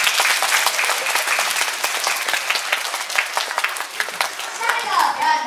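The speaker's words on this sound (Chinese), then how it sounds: "请掌声鼓励" Applause from an audience at a children's school poem and nursery-rhyme showcase, steady dense clapping filling the room throughout with faint children's voices mixed in.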